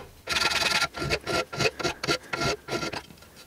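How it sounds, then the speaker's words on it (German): Fine file rounding an aluminium piece, about nine rhythmic rasping strokes close up with brief pauses between them, no talk. "Mit der feineren Feile drüber gehen."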